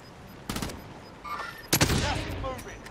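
Bursts of AUG assault rifle fire in a first-person shooter video game, two sharp volleys about a second apart, loud and close, over a low game ambience.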